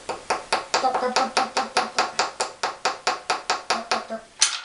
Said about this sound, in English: Our teeny little hammer, we just start.